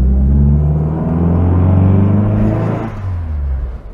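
An Austin 1300GT engine revs up and accelerates with a deep, loud rumble that builds, then eases off toward the end.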